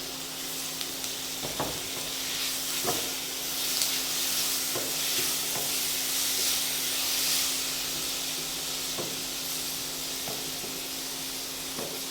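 Bitter gourd sautéing with onions in a pan for a traditional Maharashtrian sweet-and-sour karela bhaji, a steady close sizzle broken by repeated scraping stir strokes of a spatula, with no one speaking.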